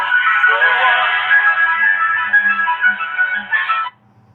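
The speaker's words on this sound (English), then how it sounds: "By the way, it's a great ringtone." A phone ringtone playing a song, loud and close, sounding continuously for about four seconds before cutting off abruptly.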